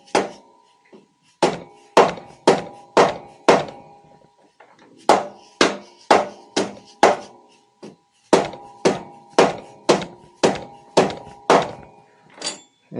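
Mallet or hammer blows knocking a stuck lifter block loose in a Harley-Davidson Shovelhead cam chest: repeated sharp metallic whacks in quick runs of four to six, close and loud, separated by short pauses, no talk.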